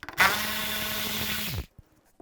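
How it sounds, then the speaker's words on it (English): A power tool, likely a cordless driver, whirs steadily for about a second and a half while taking out bolts with a 10mm socket on a 2015-2020 Cadillac Escalade, then spins down, followed by light clicks. "Take these bolts out on both sides, use a 10mm socket."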